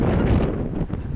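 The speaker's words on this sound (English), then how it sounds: "It's very windy out here today." Heavy, gusty wind roars and buffets the microphone in a brief, loud rumbling burst.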